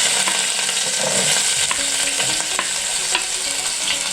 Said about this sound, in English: Once our oil is ready, we introduce our already cut or chopped onions.